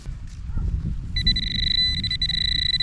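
A steady high electronic tone from a metal detector signaling on a buried target at the bottom of a dug hole switches on partway through, sustained over rumbling outdoor background noise.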